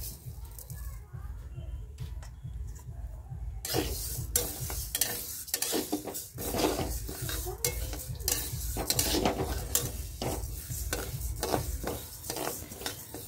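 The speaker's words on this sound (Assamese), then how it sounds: "মই দালিখিনি ভাজি লম" Lentils frying in a pan for dal khichdi, with repeated scraping stirs of a spatula over a low, steady sizzle close by, and a voice talking over it.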